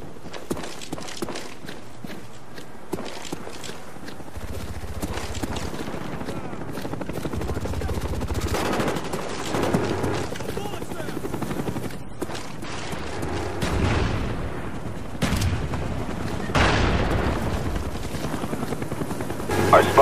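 Attack helicopter from the Call of Duty Black Ops video game thumping steadily and loudly throughout, layered with game action, mechanical clatter and footsteps, swelling at several points.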